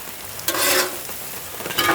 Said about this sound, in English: Now I'm just gonna chop this stuff up. And mix all of it together.